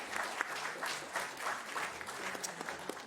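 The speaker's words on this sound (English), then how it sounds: "How about a round of applause for all of them?" A conference audience applauds panelists, dense sustained clapping from many hands in a room, steady and moderately loud for the whole stretch.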